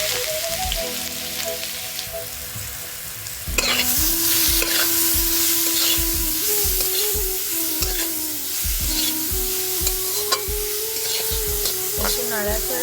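Grated beetroot and carrot hit hot oil with five-spice seeds, breaking into a loud, steady sizzle with repeated stirring scrapes in the pan, while a faint tonal hum runs underneath.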